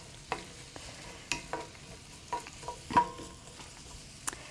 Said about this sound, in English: So I let it saute, cover it. I am on high heat